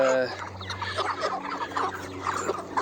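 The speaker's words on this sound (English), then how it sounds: "So watch all these chickens following me now." Chickens on a Czech hillside farm cluck in a busy overlapping chorus as they follow a person, close and lively, with a brief voice-like tone at the very start.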